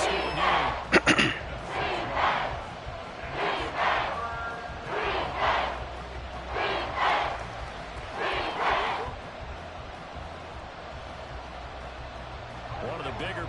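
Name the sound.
stadium crowd cheering in Madden video game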